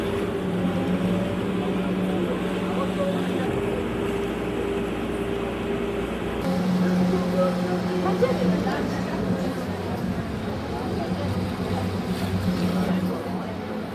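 A Venetian water taxi motorboat on a canal is overtaken by a waterbus, its engine drone steady and close over constant water and hull noise, with voices talking throughout.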